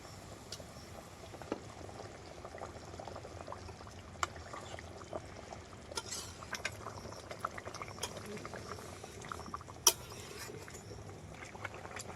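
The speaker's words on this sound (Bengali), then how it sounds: "মাছের ঝোলটা টকবক করে ফুটছে" Katla fish curry boiling in a pot, a faint, steady low bubbling with small scattered pops throughout.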